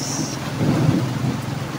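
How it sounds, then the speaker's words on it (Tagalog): Heavy rain during a typhoon pours down in a loud, continuous wash, with a low rumble of thunder swelling briefly through the middle and no one speaking. "hindi nahinto ang ulan"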